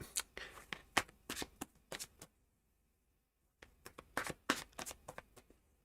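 Bursts of tarot card shuffling, quick riffles and snaps in two clusters separated by a short quiet pause, close and fairly soft.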